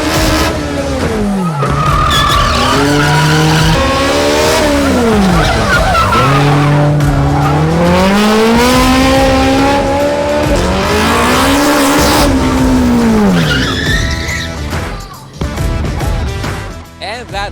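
Race cars skid hard through a National Slalom Series round at Robinsons Antipolo, with long, loud, wavering tire squeals rising and falling almost continuously over engine noise before tailing off.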